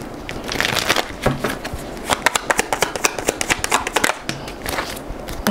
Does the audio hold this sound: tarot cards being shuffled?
yes